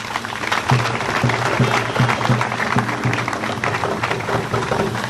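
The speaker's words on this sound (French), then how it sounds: "Il mérite applaudissements à cet instant." A political party gathering gives sustained applause in tribute to the late Professor Edouard Tshisungu, a loud continuous wash of clapping with a low rhythmic tone running beneath it.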